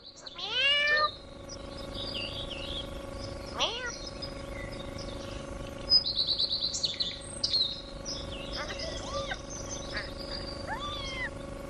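A house cat meows several times in a film scene set in a rural home, its clear rising calls standing out over steady background ambience and scattered bird chirps.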